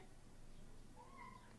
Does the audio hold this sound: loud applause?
no